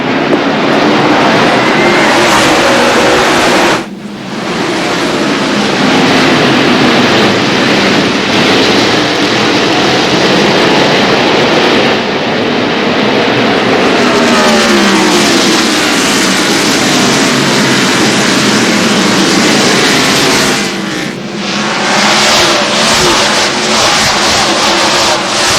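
A pack of NASCAR Winston Cup stock cars at Martinsville roars under green flag as the field accelerates, making a loud, dense, sustained engine drone that swells and thins in waves across the whole stretch.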